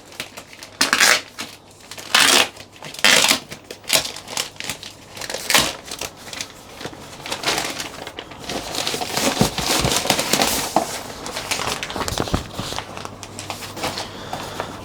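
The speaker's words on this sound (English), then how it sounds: "This is like proper thick polystyrene bag" A thick polystyrene bag crinkles and crunches as it is handled while unboxing a DJI RS4 gimbal combo, with sharp bursts early on giving way to steady dense rustling, close to the mic and without speech.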